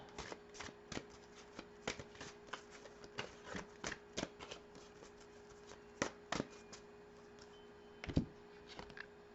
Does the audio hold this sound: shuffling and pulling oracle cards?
yes